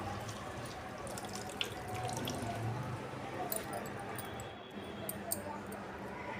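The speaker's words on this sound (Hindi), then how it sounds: "लौकी का हल्का सा पानी निचोड़ देंगे, बहुत ज़्यादा नहीं निचोड़ेंगे, बिल्कुल हल्के हाथ से थोड़ा सा पानी निकल जाए" Grated bottle gourd squeezed lightly by hand in a home kitchen, with water trickling and dripping out in a steady, close, moderately quiet wash of liquid sound and no talking.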